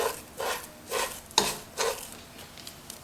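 Vermicelli strands stirred and roasted in a pan for sweet seviyan, giving four evenly spaced scraping, rustling strokes with a faint sizzle and a single metallic clink, close and fairly quiet.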